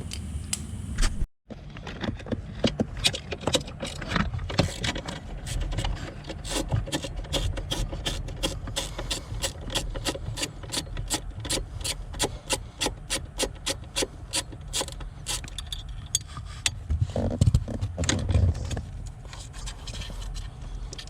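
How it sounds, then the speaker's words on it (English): A small 1/4-inch ratchet with an extension and 8mm socket clicks steadily while removing small nuts inside a Lamborghini Gallardo, a close, continuous run of rapid rasping ratchet ticks lasting most of the stretch with a brief pause near the start. "I got a tiny little 1/4-inch ratchet, an extension, and an 8mm socket."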